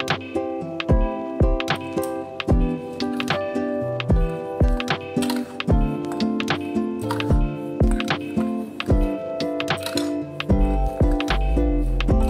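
Semolina and rice flour being stirred together in a mixing bowl produce a steady run of sharp clinks and scrapes, a rhythmic tapping of utensil against bowl that repeats closely throughout, loud and near with no talking.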